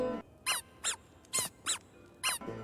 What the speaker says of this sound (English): throwing the squeaky toy for the dog